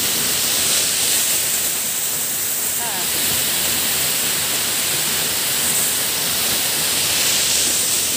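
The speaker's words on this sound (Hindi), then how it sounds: "ये रहा झरना" Continuous roaring rush of falling water, loud and steady, close by with no breaks.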